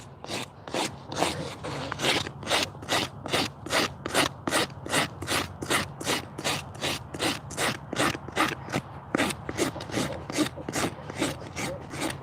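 Hoof rasp worked across a horse's hoof walls during trimming and bevelling: steady, regular back-and-forth rasping strokes, about two per second, close and fairly loud, with no talking.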